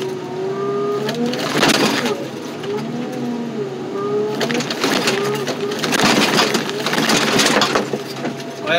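A car being lifted and crushed by heavy machinery: a droning hydraulic whine rises and falls beneath loud, repeated bursts of crunching and grinding metal.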